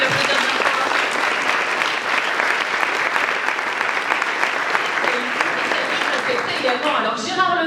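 Audience applause after a talk at an eco-construction event on Breton bio-based building materials, dense steady clapping filling the room throughout and tapering near the end.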